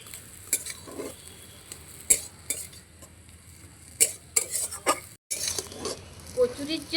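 A spoon stirs and mixes kachori filling with chopped coriander in a pan over light sizzling, giving irregular scrapes and knocks against the metal with a short pause midway.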